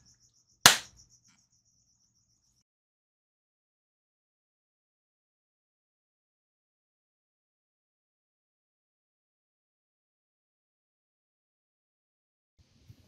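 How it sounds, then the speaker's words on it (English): A cricket inside a ceiling gives one sharp, close click that trails into a brief high pulsing chirp, and near-silence follows for the rest of the stretch. "Cricket in the ceiling."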